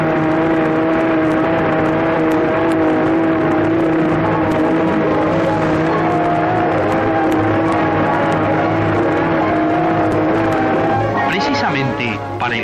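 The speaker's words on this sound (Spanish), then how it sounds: "Este poderoso ventilador posee una tremenda capacidad. Su ruido tiene algo de sobrecogedor." A loud, steady mechanical roar with a constant tonal hum from a large mine ventilation fan running continuously; a voice briefly enters near the end.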